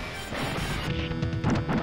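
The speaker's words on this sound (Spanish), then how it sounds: "jugaremos fases bonus, que consistirán en romper coches" Smashing of cars and glass in the Final Fight arcade bonus stage, a steady run of crunching, clattering impacts with no break across under two seconds, loud and close with game music underneath.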